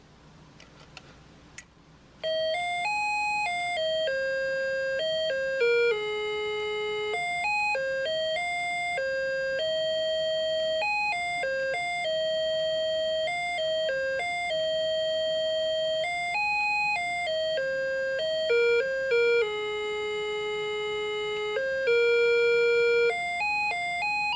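An 80s quartz wall clock's electronic chime plays a simple beeping melody of sustained tones, steady and clear, with no talking.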